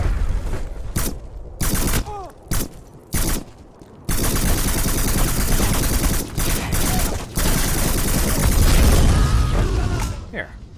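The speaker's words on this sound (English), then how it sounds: "Just toss a nade out there" Grenade blast in the video game Black amid a dense urban firefight, loud bursts of automatic gunfire and explosions filling most of the stretch, with short gaps between early volleys.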